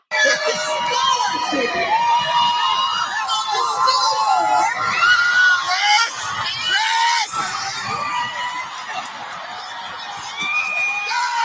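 A crowd at a graduation ceremony cheers and shouts, with high whoops and excited voices layered densely over one another, sustained and fairly close throughout with brief dips in intensity.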